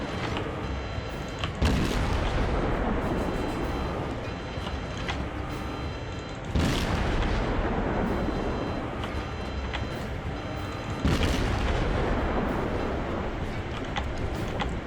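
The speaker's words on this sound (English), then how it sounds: "Let's see if we can't put some shots in on him." Heavy warship guns in World of Warships fire at a destroyer: three loud booming salvos about five seconds apart, each followed by a sustained rumbling roar.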